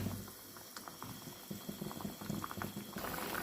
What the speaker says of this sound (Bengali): এই যে তরকারিটা ভালো মতো বলক চলে আসছে।